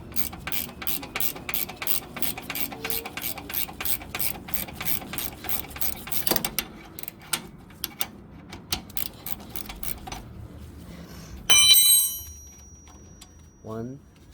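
A ratchet wrench clicks in fast, steady runs while turning caliper bolts on the rear brakes of a 2011-2018 Volkswagen Jetta, then slows to scattered single clicks and a brief metallic clang near the end.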